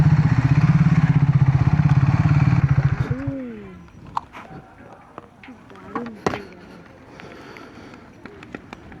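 A motorcycle idles loudly with a steady throbbing putter for about three seconds in a temple parking area, then the ignition cuts it off, leaving quiet surroundings with scattered small sounds and a voice.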